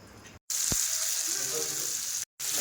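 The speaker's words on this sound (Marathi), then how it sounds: "आता माशाच्या तुकड्यांचे पलटी करून घेतली आणि तेल मी जरा भरपूर ओतले" Fish pieces fry in plenty of oil, a steady close hiss and crackle broken by two brief dropouts, with a sharp tap of a utensil near the start.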